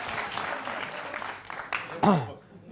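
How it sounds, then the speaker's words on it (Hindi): Studio audience applause on a Hindi political talk show breaks out as a guest is welcomed, a diffuse clapping wash under a busy mix with a brief voice-like swell near the end. "तालियों के साथ स्वागत करिए"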